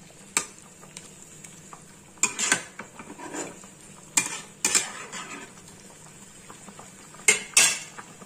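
A pabda fish curry with mustard and poppy seed paste bubbles in a pan while a metal spoon scrapes and clanks against it. Sharp stirring knocks come in loud bursts over a quiet simmering hiss.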